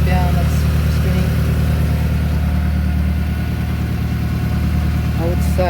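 An Audi 1.8T engine idles steadily with lightweight billet pulleys spinning, a loud continuous close-up drone with a faint whine riding on top.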